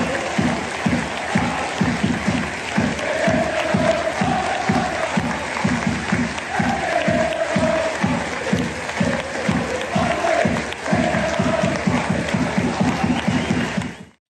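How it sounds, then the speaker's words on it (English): Celtic football fans in a stadium crowd hold a minute of applause before a Sunday match against St Mirren, a dense sustained roar of many hands with rhythmic clapping and some vocal tones from the crowd throughout. "This was a planned minute of applause before Sunday's game against St Mirren."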